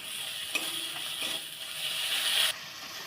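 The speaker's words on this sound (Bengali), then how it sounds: "লঙ্কার গুঁড়ো পরিমাণ মতো দিয়ে ভেজে নিতে হবে ভালো করে মানে কষিয়ে নিতে হবে" Spice paste with ground cumin, turmeric and chili powder fries in a pan, a soft, steady sizzle with a few light stirring scrapes, ending abruptly.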